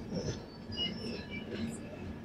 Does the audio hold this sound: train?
yes